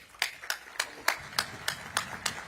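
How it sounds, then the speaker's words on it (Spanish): Scattered, evenly spaced claps from an audience at an official event in Costa Rica with El Salvador's president, about eight sharp slaps in a steady rhythm, fairly faint and alone. "Un caluroso aplauso"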